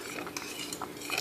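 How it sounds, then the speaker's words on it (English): A spoon scraping and clinking through southern grits in a pot, a few soft, close scrapes and taps spread over a brief quiet stretch with no talking. "Come back with some stirring"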